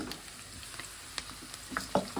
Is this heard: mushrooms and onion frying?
yes